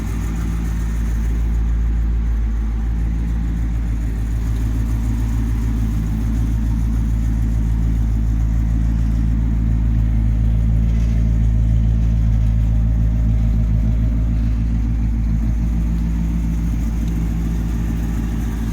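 A 1958 Chevrolet Impala convertible with a 348 V8 and automatic transmission runs steadily, a loud deep engine rumble holding throughout with little change in pitch, heard close.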